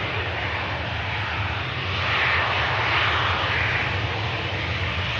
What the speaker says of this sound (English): Rapid exit for the Lufthansa. Should disengage these reversers in any moment.